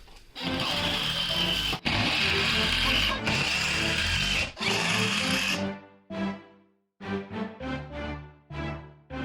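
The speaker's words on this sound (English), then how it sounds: "Now I just need to get a new bit and throw in a bunch more screws" A drill drives screws into wall studs while building an indoor climbing wall, with a few loud grinding bursts that stop abruptly, followed by shorter choppy whirring spurts as the bit catches and releases, close up.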